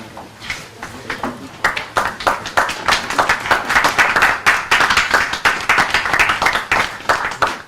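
Audience at a business report launch in the Scottish Parliament claps loudly and steadily, individual claps standing out in a rapid, close, continuous round.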